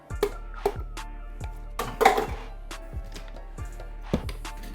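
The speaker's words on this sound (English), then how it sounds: "We're dumping our blueberries." Blueberries tumble into a blender jar on a kitchen scale with several dull knocking thuds and a scattered clatter, close and uneven, no talking.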